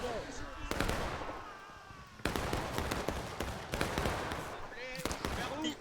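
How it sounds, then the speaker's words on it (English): Point-blank gunfire cracks in a video game battle on the Garland's Stand map: loud, sharp shot bursts arrive in irregular clusters, separated by quieter stretches, with a voice talking over the action. "we got point blank firing going on right here"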